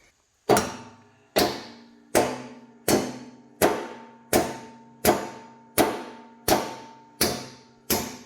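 Ten evenly spaced, ringing metallic hammer blows drive a part into place while a cheap car lift is installed, each strike loud and close with a short resonant clang decaying before the next.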